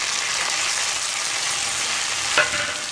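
Chopped tomatoes and pink-fried onions sizzle steadily in a pan for tawa mutton fry, a dense, even hiss held close throughout, with one brief louder crackle near the end.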